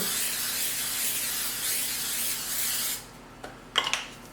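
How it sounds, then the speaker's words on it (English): A continuous aerosol spray of Pam Baker's cooking spray onto a baking pan hisses for about three seconds, then stops, followed by a few light clicks and taps of handling. "I'm going to spray my pan with this Pam Baker's spray."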